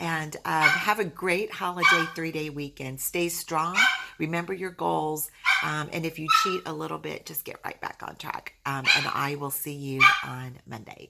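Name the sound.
dog barking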